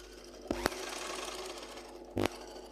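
A sewing machine stitches rolled piping into fabric, a steady close whirring run broken by two short knocking bursts near the start and another sharp burst near the end.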